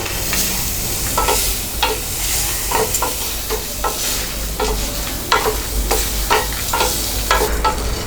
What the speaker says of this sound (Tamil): நம்ம வந்து இப்போது மீடியம் ஃப்ளேமுக்கு மாற்றிட்டு தேங்காய் போட்டுக்கலாம்.